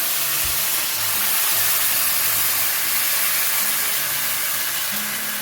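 Bhuna chicken curry paste sizzles hard in a hot pan, a loud, continuous hissing spray of steam with faint low clunks underneath and no talking.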